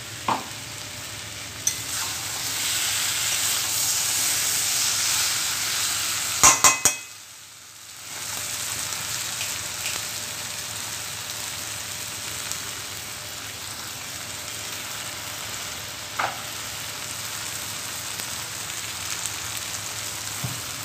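Drumstick pieces fry in spices in a pan with a steady close sizzle, broken by a few sharp clinks of a utensil against the pan and one brief pause in stirring.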